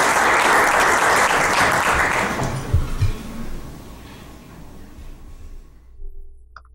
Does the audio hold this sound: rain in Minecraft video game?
no